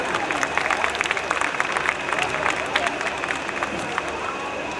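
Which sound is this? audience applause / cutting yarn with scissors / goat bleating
audience applause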